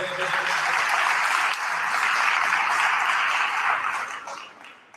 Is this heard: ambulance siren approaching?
no